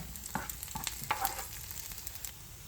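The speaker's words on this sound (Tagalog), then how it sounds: "Pag nag-brown lang natin konti yung ating bawang." Garlic browning in a frying pan for a yaki udon stir-fry, a quiet steady sizzle with a few soft stirring scrapes and clicks near the start.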